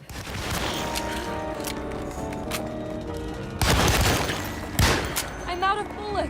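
Video game gunfire crackles in rapid bursts, several sharp loud shots and a burst of automatic fire cutting through a droning background, with a player speaking between shots.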